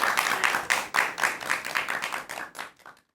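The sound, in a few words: audience clapping and applause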